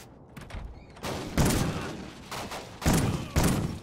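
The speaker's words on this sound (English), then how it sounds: "Oh, this is a shotgun. I didn't realize." Shotgun blasts fire in a Call of Duty: Ghosts campaign battle, several heavy booming shots spaced about half a second to a second apart, fairly close and loud against game ambience.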